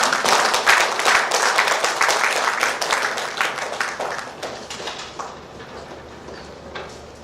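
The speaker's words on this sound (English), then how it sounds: "I think the applause can be a lot better" Clapping and applause from an audience at an award ceremony, dense at first and then gradually thinning and fading out over several seconds.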